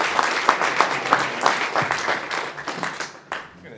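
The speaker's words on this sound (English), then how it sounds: "So please give a round of applause for Sam Toddy." Audience clapping for a guest being brought onto a stage at an event, a steady burst of applause with sharp individual claps, fading toward the end.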